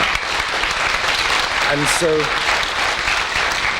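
A television studio audience on a late-night talk show applauds steadily at moderate volume, with a brief spoken voice cutting in partway through.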